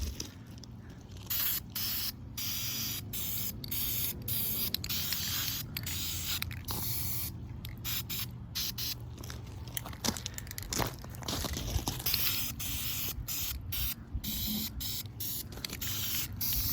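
Aerosol spray paint in tan hissing onto car sun visor grommets, a close, continuous spray with short breaks and light handling clicks, no voices.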